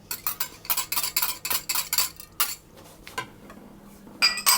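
Ingredients for banana and coconut muffins are mixed in a bowl, a rapid series of close, bright clinks and scrapes of a utensil against the bowl, then a pause and a final few strokes.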